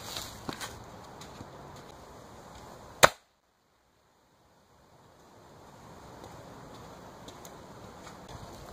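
A Daisy Powerline 880 air rifle fires a Gammo PBA pellet: one sharp, loud crack stands alone against faint outdoor ambience and is followed by a few seconds of near silence.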